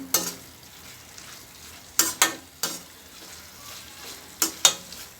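Brinjal and tomato sautéing in a pan for a thokku, a steady sizzle punctuated by several sharp spatula scrapes and stirs, close and fairly loud, with no talking.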